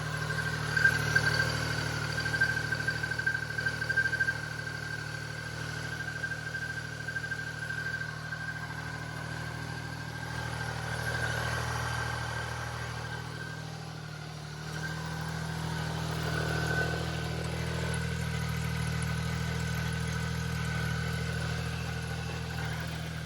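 A motorcycle engine idles steadily while warming up after sitting unstarted for about six months, a close, even low rumble with a constant mechanical hum and no speech.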